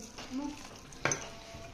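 Mashed potatoes being mixed with chili sauce, chili flakes and salt in a bowl: soft squelching stirs and then a sharp knock of a utensil against the dish, set against a faint background hum.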